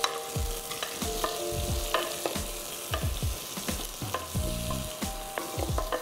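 Fresh mint leaves sautéed in a pan, sizzling steadily while a spoon scrapes and stirs in a regular rhythm of repeated knocks, close up with no talking.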